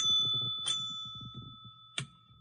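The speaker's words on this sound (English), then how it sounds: "I have a new bell, by the way. I like the triple bell." A triple bicycle bell rings twice with bright metallic dings, the first under brief low chatter, the second a sharp trill standing out alone.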